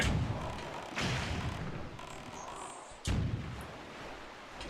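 Cannon blasts in the Zelda Wind Waker HD video game, two loud booming shots about two seconds apart, each with a sharp onset and a lingering rumble that fades slowly.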